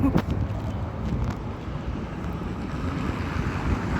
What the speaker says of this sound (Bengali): বাতাসটা তো সেই মনে হচ্ছে যে বাতাসে উড়ে যাব।